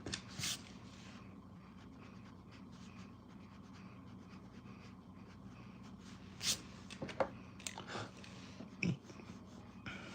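An eraser rubs back and forth over a pencil sketch of anime eyes on paper, a soft, close, dry scrubbing in short bursts with brief louder strokes, no one speaking.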